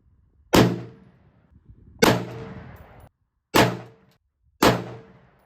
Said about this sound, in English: let's put 5 rounds on the target, see what happens